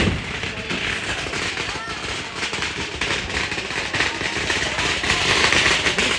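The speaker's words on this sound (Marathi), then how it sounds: "मागे फटाके पण फुटत आहेत" Firecrackers burst behind a crowded temple queue in a rapid, continuous crackle of sharp pops that grows louder toward the end, with crowd noise and voices mixed in.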